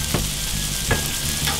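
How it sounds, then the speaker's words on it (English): Onions fry on a hot grill with a constant close sizzle, broken by three quick scraping strokes as a spatula stirs them around. "Let's just move our onions around a little bit."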